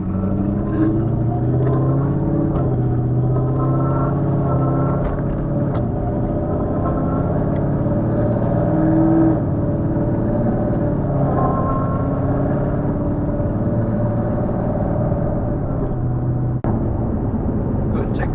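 A Ford truck fitted with a Stage 3 RSA 10R80 transmission drives in stop-and-go running, its engine droning and rising through gear shifts close by, with someone talking over it.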